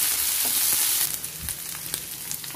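Green chillies fry in hot oil in a pan while being stirred, a loud, close, steady sizzle broken by scraping and clinks from the spoon.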